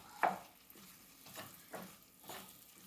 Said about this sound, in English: just making sure that whatever was added is getting mixed up with the gravy there